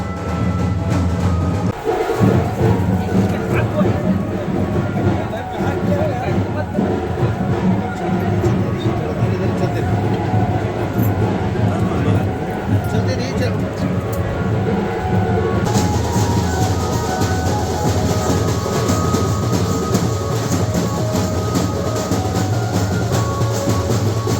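A special pilgrim train carrying devotees to Ayodhya departs Rajnandgaon railway station, a loud continuous rumble of rolling cars with clattering wheels and a busy platform crowd murmuring beneath.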